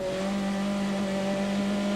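TVR Tuscan race cars at Spa roar past in a steady, loud engine drone with a strong sustained tone, the whole field's noise holding level throughout.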